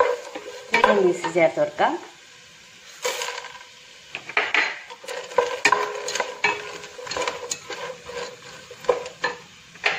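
Vegetable pulao with green peas is stirred in a pan, a spatula scraping and knocking in close, uneven strokes over a soft sizzle, while a voice speaks briefly near the start.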